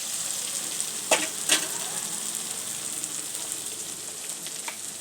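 Chopped onion and tomato fry in a pan for chicken kheema, giving a steady, close sizzle throughout with two sharp clattering stir knocks early on and a softer scrape near the end.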